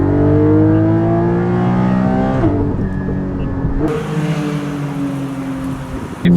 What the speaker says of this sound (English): The engine is right there as well, so the sound is just different from like a normal front engine car.